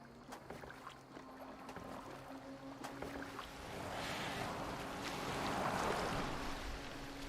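A Viking longboat glides over water in Assassin's Creed Valhalla, with a steady low wash of waves and hull splashing, soft rhythmic creaks and a faint wind swelling midway, all fairly quiet with no talking.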